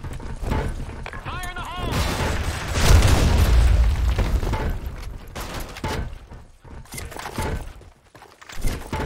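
A grenade blast in the Blackshot shooter game: a loud, deep boom with a long rumbling tail and crackling debris, surrounded by other in-game gunfire and effects, with voices calling out over it.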